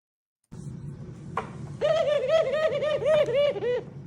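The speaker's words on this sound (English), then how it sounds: "Is that a pigeon?" A pigeon coos in a repeated series of soft, rolling calls at close range, preceded by a brief thump, with a low steady background rumble throughout.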